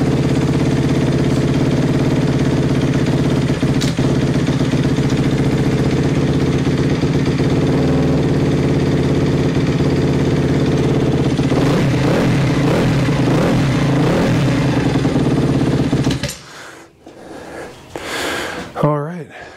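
A rebuilt Honda CRF250R motorcycle engine idles steadily and close by, a continuous loud mechanical drone that drops off near the end, with someone talking over it in places.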